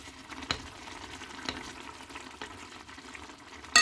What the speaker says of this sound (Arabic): هنا غندير العظم، رميت 4 كعبات عظم